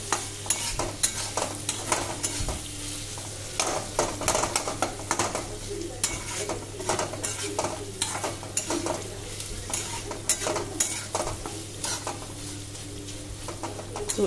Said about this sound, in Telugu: సో దీన్ని ఇప్పుడు మంచిగా పెట్టేసుకుని ఫ్రై అయితే చేసేసుకుందాం